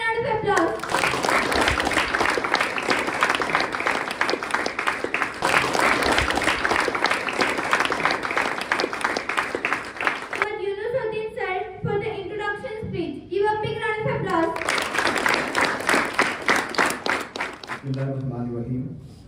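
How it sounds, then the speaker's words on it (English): Students and guests at a school event applaud in long bursts of dense clapping, broken midway and near the end by stretches of someone speaking. "So give a big round of applause."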